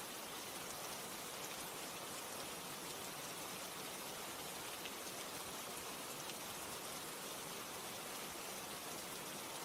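Steady, dense rain falls continuously, a broad even hiss with no pauses, voices or other sounds.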